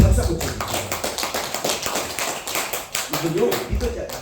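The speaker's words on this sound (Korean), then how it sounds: "박수 한번 쳐주세요." A Korean church congregation claps together during a Sunday worship service, producing a dense run of close, rapid hand claps with voices speaking over them.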